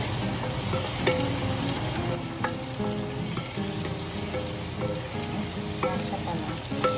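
Pork frying in a clay palayok for pochero, a steady dense sizzle with soft scraping clinks of stirring throughout, close and moderately loud with no talking.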